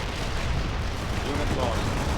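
Artillery fire mission in the strategy video game World in Conflict, a low, rumbling barrage of booms rolling continuously with radio-style voice chatter over it.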